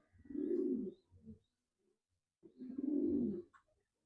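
Two bursts of low, throaty cooing from a racing pigeon, close and fairly loud, each lasting about a second with a pause between.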